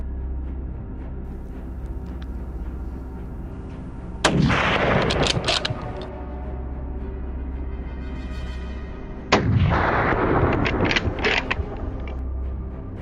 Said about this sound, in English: The moment a target entered our sights, it was taken down with a clean, decisive shot